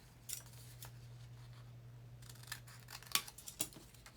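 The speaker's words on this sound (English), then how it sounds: "So now this is the inside, which I'm going to cut open on each end." Scissors snip open each end of a paper junk mail envelope, a few faint, close crisp cuts over a low steady hum, with no speech.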